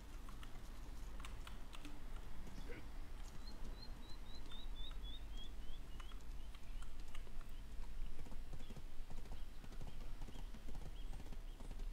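Horse hooves clip-clop at a steady gallop in the online game Black Desert Online, with keyboard clicks and faint game birdsong under a constant ambient bed.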